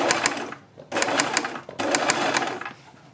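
Sewing machine stitching a strip around a garment neckline, heard close in three quick bursts of rapid whirring separated by brief pauses.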